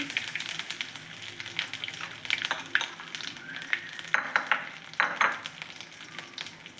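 Asafoetida dropped into hot oil already crackling with mustard seeds and cumin for a Gujarati chickpea curry tempering, a steady close sizzle with sharp popping crackles and a few utensil clinks.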